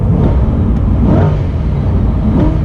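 Mid-engine C8 Corvette held in neutral with both paddle shifters pulled, its engine revving in a steady, loud low rumble with a couple of swells, heard up close from inside the car with no talking.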